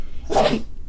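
A single sharp sneeze bursts out close up, short and loud, with quiet before and after.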